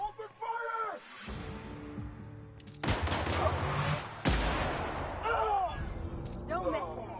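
Gunfire erupts in the video game Outer Worlds, with heavy bursts of shooting breaking out in loud waves between shouted voices and other game sounds.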